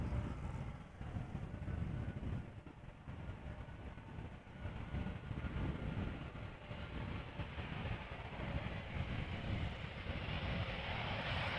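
An Embraer 190 airliner arriving at Amsterdam Schiphol Airport makes a steady, fairly distant low rumble that holds evenly throughout, broadband engine and air roar with no talk over it.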